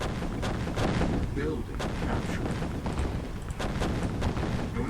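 In Command & Conquer 3: Tiberium Wars, battle gunfire and artillery-like shots pound repeatedly in a dense, rolling barrage at moderate volume.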